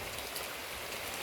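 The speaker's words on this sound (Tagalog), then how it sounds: "Malakas ang ulan." Heavy rain pouring down outdoors, a dense, even hiss of drops pattering on surfaces that fills the whole short stretch without any voices.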